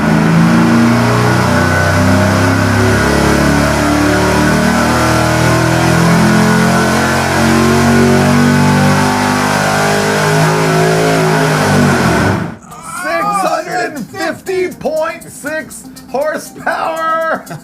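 A stock engine fitted with a supercharger roars on a dyno, holding a loud, sustained high-rev pull for about twelve seconds before cutting off abruptly, followed by someone talking.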